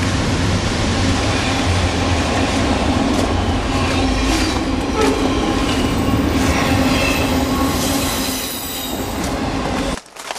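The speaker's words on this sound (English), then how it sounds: "Train started already." A train rolls along the rails, a loud, steady rumble with wheel squeal and faint clickety-clack running nearly the whole time, then cutting off abruptly near the end.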